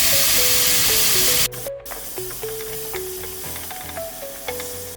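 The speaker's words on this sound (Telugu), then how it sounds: "మనం ముందుగా కట్ చేసి పెట్టుకున్న పన్నీర్ పీసెస్ని యాడ్ చేసి ఫ్రై చేసుకోవాలి" Paneer pieces with chili powder, salt and coriander powder fry in oil in a pan, starting with a loud burst of spray-like sizzling that drops to a steady crackle with clinking and scraping in the background.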